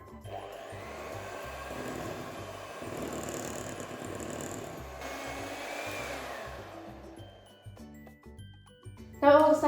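Coffee and walnut traybake batter being mixed, probably with an electric hand mixer: a steady, close mechanical whirr that runs throughout with slight changes in pitch, then a brief louder clatter at the very end.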